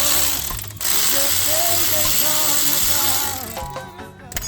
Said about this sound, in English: So all you have to do now is remove the caliper bolt.